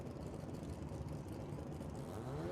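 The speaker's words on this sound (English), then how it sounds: "You'll hear them start pumping the gas, and the RPMs will start bouncing up and up" Two drag race cars, each with a 13B rotary engine, idle and rev at the start line of a World Cup Finals event, a dense continuous low engine roar that swells slightly toward the end, with no voices.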